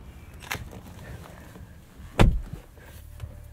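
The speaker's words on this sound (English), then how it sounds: "Soft closed doors." A soft-close door on a 2022 Mercedes-Benz S500 4MATIC pulls itself shut with a single muffled, low thud after a faint earlier click, set against quiet cabin background.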